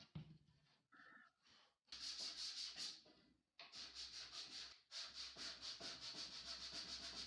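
Rhythmic back-and-forth strokes of sandpaper on soft pine wood, scratchy and fairly close, in bursts separated by short pauses.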